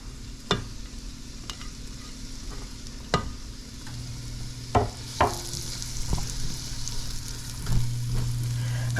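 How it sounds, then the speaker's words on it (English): Red onions, scallion, thyme and garlic sautéing in a pan, a steady sizzle punctuated by sharp clinks and scrapes of a utensil stirring, with a low hum underneath and no talking. "Just put red onions in there, the scallion. Get everything sauteed now."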